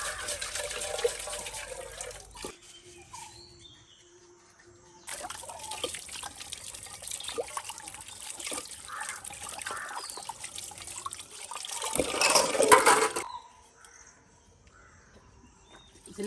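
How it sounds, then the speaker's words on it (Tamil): Water trickles and splashes as dishes are washed in a sink, steady running flow with clattering bursts, crows cawing nearby in the background. "எனக்கு இதுதான் சிங்கி இதில் கழுவினா தான் திருப்தியாக கழுவலாம்"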